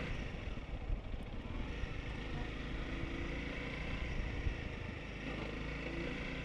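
Honda CRF300L motorcycle ridden in second gear, with a jerky on-off throttle; a steady low engine drone with mild rise and fall, heard close from the rider's position with no voices.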